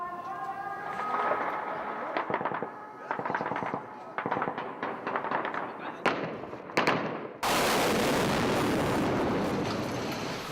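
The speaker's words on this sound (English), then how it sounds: "About a half an hour ago, the gunfire started here" Bursts of gunfire crackle at a distance in rapid irregular volleys, followed by a sudden loud rush of wind or noise near the microphone.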